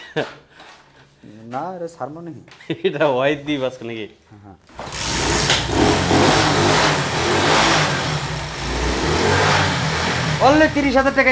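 Speech at first, then a 110cc motorcycle engine roars into a sustained rev that fills the rest of the clip, with a voice briefly returning near the end.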